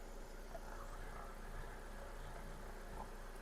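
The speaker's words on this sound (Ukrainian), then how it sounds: "мотор працює рівно" A Skoda Octavia A5 with a 1.6 MPI petrol engine and automatic gearbox idles steadily, a faint, even hum holding without change and no voices over it.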